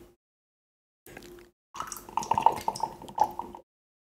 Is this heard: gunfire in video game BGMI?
no